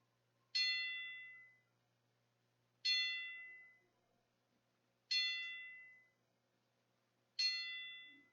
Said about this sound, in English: A little 10-bell salute here.